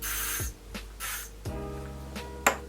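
Several short hissing sprays from an aerosol can of hair spray, a few puffs spaced about a second apart, close and fairly quiet, no talking.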